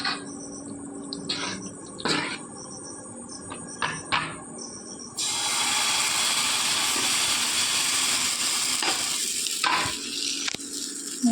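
Suji and egg flatbread with chopped onion and green chili frying in a pan, a steady close sizzle that rises and thickens partway through and keeps a continuous hiss, with faint clicks of handling and no talking.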